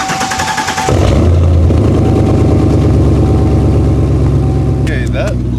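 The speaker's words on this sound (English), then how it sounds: "As my exhaust is nice and disconnected right now, this will be a really good cold start, so let's hear it." A Cadillac CTS-V engine with its exhaust disconnected cranks briefly on a cold start, then catches and settles into a loud, rough, rumbling idle, raw and unmuffled, close up.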